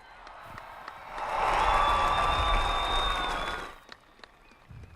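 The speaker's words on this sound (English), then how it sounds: "let's give both teams a round of applause" Spectators at a state championship high school football game between Marion Local and Youngstown Ursuline break into a swell of applause and cheering that rises, holds for about two seconds, then fades, leaving scattered crowd noise.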